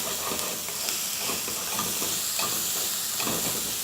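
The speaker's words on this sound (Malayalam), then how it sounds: "ഒന്ന് വഴറ്റി കഴിഞ്ഞ് അതിലേക്ക് കുറച്ച് ഉപ്പ് ചേർത്ത് കൊടുക്കുക." Sliced onion sautés with salt in a pan, a steady sizzle and hiss of frying with soft, rhythmic stirring strokes scraping through it.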